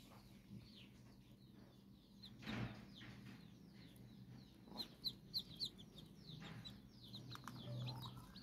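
A broody hen calls her chicks to food with soft, repeated clucks over a steady farmyard background, the calls moderately near and several coming in a quick cluster midway.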